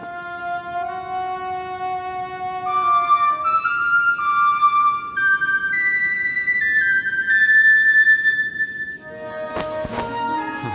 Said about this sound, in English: It's a bone whistle.